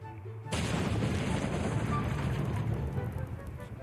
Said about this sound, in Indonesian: Oke, gue sudah dapat C4, kita langsung ledakan saja, guys.